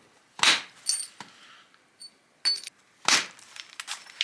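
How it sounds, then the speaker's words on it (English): Flintknapping a stone arrow point with a billet: sharp, bright strikes and clinking flake ticks in irregular bursts, close and crisp, separated by short silences, with no talking. "I'm going to go to the billets, thin it out, shape it"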